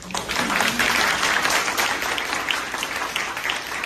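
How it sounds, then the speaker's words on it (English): Audience at an artist talk applauds steadily, a dense wash of clapping that rises quickly and holds at an even level for several seconds. "Great, should we give a round of applause?"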